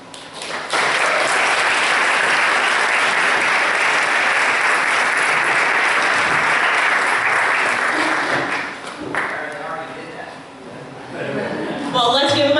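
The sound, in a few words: applause from the audience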